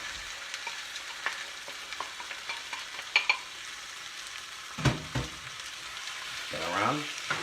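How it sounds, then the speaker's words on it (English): Canned diced tomatoes sizzling and bubbling in a frying pan while cooking Shrimp Fra Diavolo, a soft steady fry with scattered pops and occasional stirring scrapes, fairly quiet and close. "you're gonna take roughly about 1 can of diced tomato, and you put that right in there"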